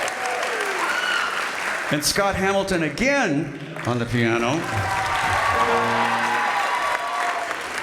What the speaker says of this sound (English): You can clap, clap, clap, clap.